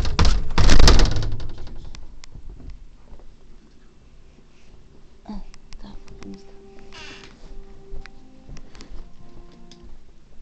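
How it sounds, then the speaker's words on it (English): A loud thud of a door shutting up close at the start, followed by quieter knocks, ticks and faint background noises. "Watch this door that I'm gonna shut."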